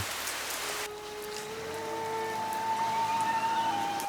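Steady, dense rain hisses across the whole clip amid heavy traffic in Japan, with a faint tonal whine rising through it and a low rumble underneath.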